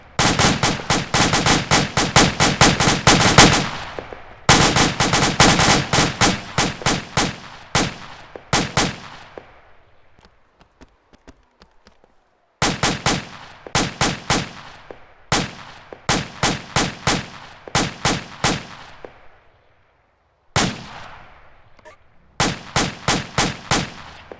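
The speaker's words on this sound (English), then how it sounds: "Fire team, you're clear to open fire." A fire team opening fire during training, with long loud bursts of rapid automatic gunfire broken by short pauses, and rifle reports echoing across an open range.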